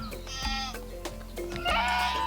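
Goats on a farm bleat close by, several overlapping calls one after another, loud and wavering, with low background rumble and no clear talking.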